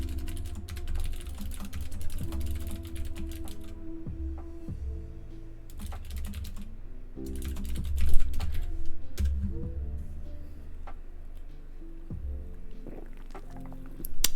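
Rapid clicking of a computer keyboard while code is typed, with bursts of quick keystrokes separated by brief pauses, close-up and moderately loud over a low background hum.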